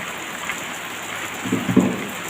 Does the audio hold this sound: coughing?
no